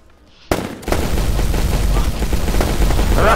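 Sustained automatic gunfire from a shooter video game, starting abruptly with a loud burst and continuing as a dense, steady rattle of shots and explosions; a voice calls out briefly at the start.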